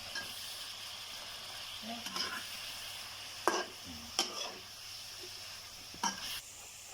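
Shrimp stir-fried with spring onions in a pan, a quiet steady sizzle with several sharp spatula scrapes and clacks scattered through, close and fairly faint, no talking.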